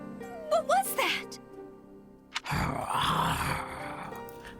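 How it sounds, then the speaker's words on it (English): A man growls and grunts in the Fire Emblem Warriors: Three Hopes video game: short throaty vocal bursts over steady game music, then a rougher, louder stretch of growling noise that runs to the end. "who's growling? It sounds like... a man?"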